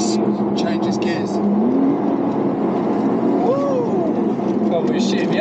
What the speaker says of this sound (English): See the gear change, how quick was that? It's very quick.